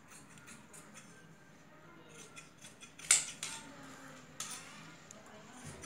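Scissors cut blouse fabric along a chalk marking, with quiet snips building to a few crisp, close cuts in the middle and a softer one later.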